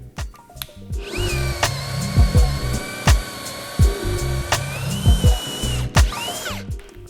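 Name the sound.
Bosch right-angle drill drilling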